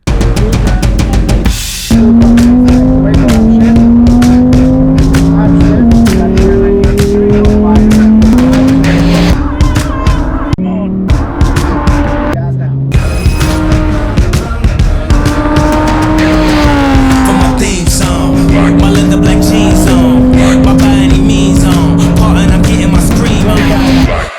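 A race car driven flat out around a track for a fastest-lap attempt, engine loud and close the whole way, its pitch climbing and dropping through gear changes, with a brief dip mid-lap.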